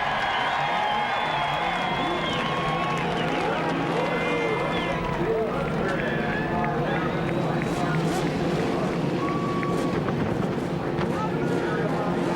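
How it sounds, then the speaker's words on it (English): Twenty-two Indy cars at the 1991 CART race at Phoenix roar on the straightaway at the start, with engine notes rising and overlapping loudly while a voice talks over them. "the roar builds on the straightaway here at Phoenix. 22 Indy cars."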